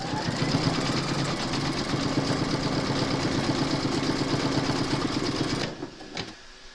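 Close and loud, an embroidery machine runs a securing stitch round on an in-the-hoop bunny slipper, a continuous mechanical hum with fast rhythmic needle clatter that halts near the end, leaving a few faint clicks.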